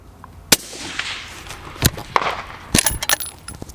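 Precision rifle shots at a PRS shooting match, several sharp, loud cracks spread across a few seconds, with rattling and handling noise between them outdoors.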